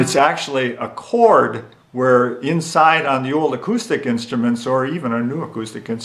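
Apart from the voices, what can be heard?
No everyday noise stands out behind the speech.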